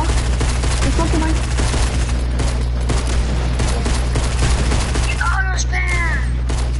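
Rapid gunfire from a revolver in a video game, a dense continuous volley of shots throughout with a steady low hum underneath, and a couple of faint voices breaking through near the end.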